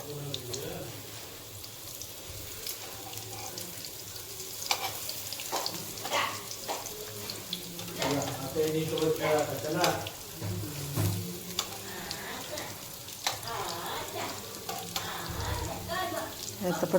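Crispy eggplant slices fry in a pan with a steady sizzle, and intermittent scraping and clatter sound as the slices are turned over, close and moderately loud, with no talking.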